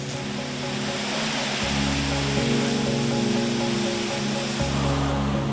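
Water spraying over Lexus LFA sports cars in a factory water-tightness test booth: a continuous, dense rushing hiss with a steady mechanical hum underneath, loud and unbroken throughout.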